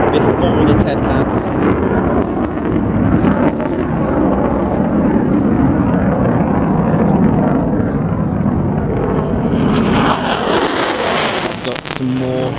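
Military jets at RAF Lakenheath, among them F-35A and F-15E, taxiing at the airfield as a loud, steady engine roar blended with wind buffeting the microphone, with a voice talking over it.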